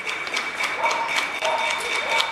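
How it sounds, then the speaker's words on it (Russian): Applause from many people clapping in their homes during a lockdown in Spain, a steady irregular patter of hand claps heard at a distance, continuous and fairly loud, with no talking. "Хлопают все."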